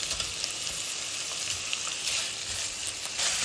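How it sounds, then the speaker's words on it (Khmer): Pork belly pieces fry in hot lard in a pan, giving a steady, close hiss of sizzling fat that holds at an even level throughout, with no voices. "នៅពេលដែលខ្លាញ់ក្តៅយើងចាក់សាច់ជ្រូក3ជាន់របស់យើងចូល"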